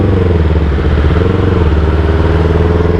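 A Yamaha R25 V2 motorcycle engine runs while riding, giving a loud, steady, close-up drone with a rough, even pulse throughout and no talking.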